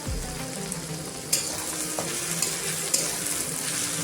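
Whole cloves, cardamom, cinnamon and bay leaves sizzle in hot oil for a beef khiri dish, a steady close crackling hiss with a few sharp pops and light stirring.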